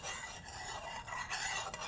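A spiced watermelon rind pickle mixture with cloves being stirred, a soft continuous scraping and rubbing that rises and falls in short strokes, close and fairly quiet with no talking.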